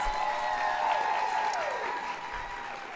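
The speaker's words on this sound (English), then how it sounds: "So please give yourselves again another round of applause." An indoor audience at a talk show about alopecia and self-acceptance applauds, a dense, steady wash of clapping from a crowd that fades slightly toward the end.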